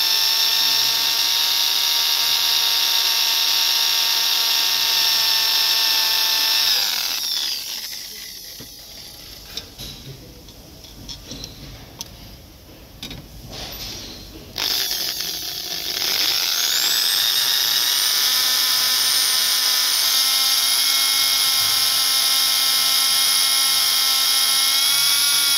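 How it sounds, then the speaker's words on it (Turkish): A drill bores through a steel bolt in the engine of a Skoda Superb 1.4 TSI, with oil passages plugged with cloth. A loud, steady, high whine drops away for several seconds mid-clip, then returns at full strength. "Çelik cıvatayı deliyor arkadaşlar."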